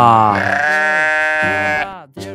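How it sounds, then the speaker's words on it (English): A sheep on a farm gives one long, loud, wavering bleat lasting nearly two seconds, then a short second bleat after a brief pause. "And on his farm he had sheep."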